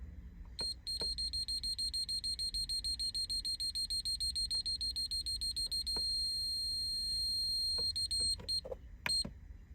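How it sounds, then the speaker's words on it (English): Rapid electronic overboost alarm beeping from a Greddy Profec boost controller in a steady, fast pulsing pattern, clear and close, stopping and restarting briefly near the end. "this is like an alarm you have when you overboost"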